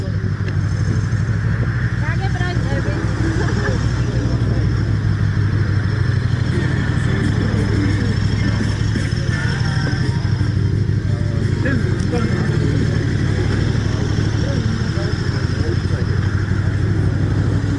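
A motorcycle engine runs steadily and loud at an outdoor bike weekend event in Lagodekhi, with a constant low rumble and occasional revs, while people talk nearby throughout.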